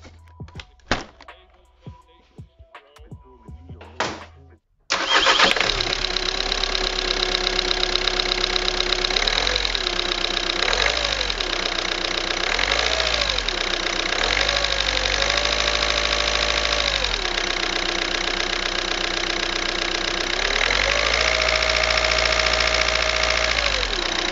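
An Audi A3 1.6 TDI diesel engine idles with the bonnet open after a few scattered knocks, its steady running carrying a faint ticking from the top end of the engine.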